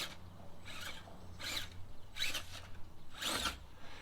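A cheap brushed 3-slot RC crawler motor with a long rotor whirs in short, fairly faint bursts, spinning up and down about five times with quiet gaps between.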